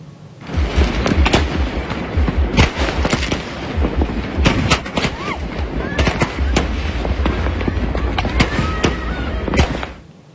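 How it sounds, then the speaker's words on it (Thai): New Year fireworks burst in a rapid, irregular series of sharp loud cracks and pops over a continuous rumble, with voices faintly mixed in. "เขาเนี่ยถูกสะเก็ดพลุกระเด็นใส่แบบนี้ครับ"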